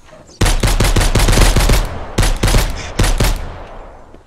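Loud, close gunshots in the survival game Mist Survival, a rapid burst of repeated shots followed by a few more separate shots, with no talking.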